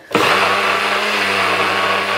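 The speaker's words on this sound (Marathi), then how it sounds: "हांव बारीक पावडर करता मिक्सरान." A kitchen mixer grinder powdering sugar with cardamom starts abruptly, then runs with a loud, steady, close whirring roar for about two seconds.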